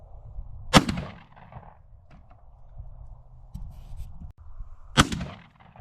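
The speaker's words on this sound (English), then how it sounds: "I'm gonna take a shot with turkey loads, shells that we're actually going to be using" Two sharp, loud shotgun blasts from turkey load shells ring out several seconds apart, each a sudden crack with a short trailing echo, over a low background hum outdoors.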